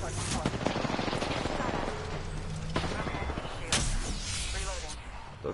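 Rapid bursts of gunfire ring out in the Apex Legends video game, sharp cracks scattered over several seconds with dense, loud game audio and some talk underneath.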